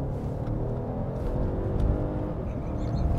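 Car in sport mode accelerating, a low engine rumble swelling and building gradually, heard from inside the cabin.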